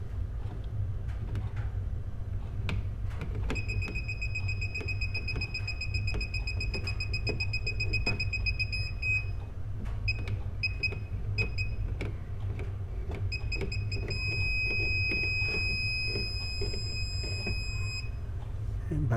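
A circuit breaker finder tester gives repeated rapid high beeps in two bursts as it is scanned across a breaker panel, with a steady low hum underneath and faint handling clicks.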